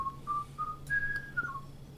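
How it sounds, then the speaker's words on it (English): Short electronic whistle tones from the Playchess.com online chess server: several brief rising blips followed by a longer sustained whistle, clear and fairly close over a faint background hum. "I don't know what the server's whistling about"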